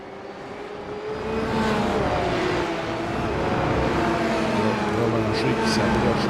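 A large pack of Porsche Cup race cars, roughly the top nine, roars past at the Mexico round, engines building to a sustained loud drone under continuous French-language race commentary.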